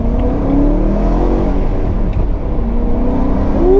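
BMW E90 M3 driven on the road and accelerating, its engine droning loud and close with a tone that climbs through the gears, and a noticeable rise in pitch toward the end.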